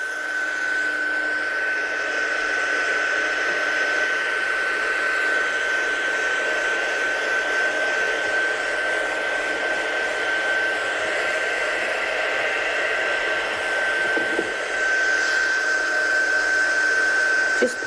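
Hair dryer or heat tool blowing steadily on a watercolour painting, a close constant whooshing hum with a thin high whine, running without pause for the whole stretch.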